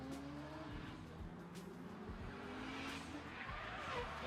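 A drift car slides through a turn at the 2023 French drift championship, its engine droning steadily with tire squeal, heard from a distance and fairly faint.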